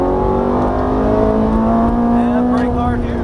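Ferrari F430 accelerating out of a corner on a race track, a steady, loud engine drone with rising pitch, close-up, with an instructor talking over it.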